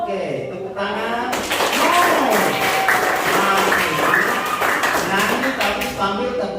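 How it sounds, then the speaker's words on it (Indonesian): Hands clap in a steady rhythm along with voices singing a children's song in a classroom, the claps close and repeated under the singing. "Nyanyi tapi sambil tepuk tangan"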